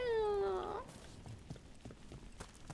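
A cat in the video game Dragon Age: The Veilguard gives a single drawn-out meow that rises in pitch, loud and close, before fading into quieter in-game ambience and shuffling.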